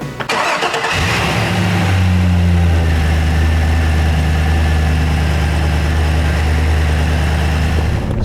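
Engine of a restored Toyota Land Cruiser FJ62 cranks and catches, then settles into a loud, steady idle with a deep, even hum, close by and without speech.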